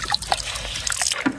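Water splashing and dripping while a motorbike is washed with cold water in heavy rain, irregular close drips and small splashes in quick succession.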